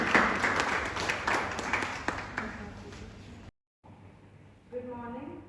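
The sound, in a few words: audience applause welcoming debaters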